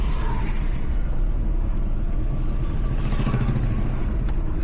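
Steady road traffic through Gudalur, on the narrow single-lane route toward Kerala, heard from inside a moving vehicle as a continuous low engine and road rumble with passing vehicles.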